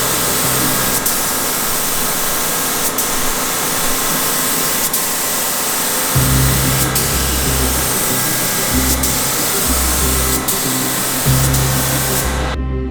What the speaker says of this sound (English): to lay down our base paint of Ventura orange